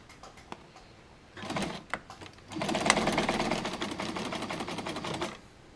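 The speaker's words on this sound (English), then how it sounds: "I'm lined up to do my first stitch on the strap" Sewing machine with a needle for thicker material straight-stitching a dart bag strap: a few soft clicks, then a steady close mechanical whir of stitching that runs for several seconds before stopping.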